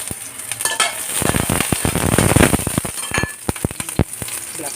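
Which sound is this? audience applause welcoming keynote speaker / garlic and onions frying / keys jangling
garlic and onions frying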